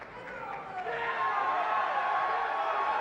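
Arena crowd at a 2004 Arnold Classic strongman contest roars and cheers steadily, swelling louder midway and holding a dense sustained din with scattered whoops.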